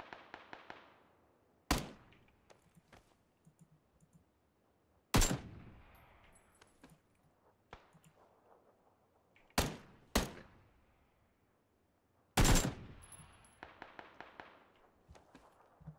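Gunshots in the video game PlayerUnknown's Battlegrounds, about half a dozen sharp single cracks with echoing tails spaced irregularly, some paired, over faint background rustle.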